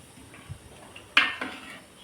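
Country chicken stirred into masala in a pot, a faint soft scrape followed by a sharp metallic clink of a spoon against the vessel and a quieter second knock.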